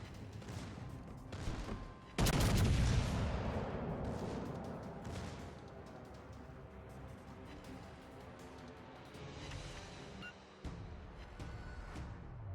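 Secondary guns on a battleship fire in World of Warships Legends, a loud burst of booming shots followed by rolling repeated gunfire and explosions that fade and return in bursts.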